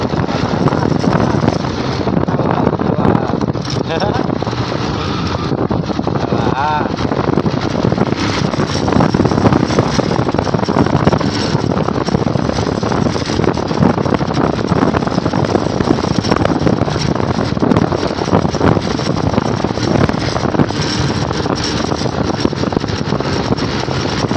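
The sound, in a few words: speedboat motor running on water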